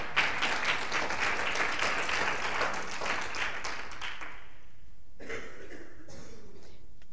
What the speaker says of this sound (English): That was a good place to clap.